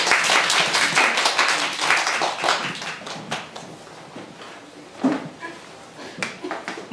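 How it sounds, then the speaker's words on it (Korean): An audience at a Korean history lecture claps to welcome a professor, a scattered round of applause that starts fairly strong and then thins out and fades. "교수님 뜨거운 박수로 맞아주시기 바랍니다"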